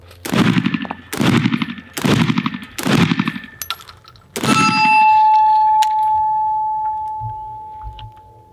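Five loud shotgun blasts from a 12 gauge Genesis Arms Gen 12 magazine-fed shotgun firing low recoil slugs, the first four coming at a steady one-per-second rhythm, each followed by a short echo, with a ringing tone lingering after the last.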